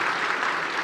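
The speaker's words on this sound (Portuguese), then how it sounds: "Uma salva de palmas pro Mateus" A live audience bursts into applause for a man at a motivational talk, a steady dense wash of clapping throughout the short moment with no voices over it.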